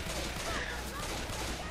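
Dense gunfire in the video game Left 4 Dead 2, a continuous loud barrage of rapid shots filling the moment, with voices mixed in.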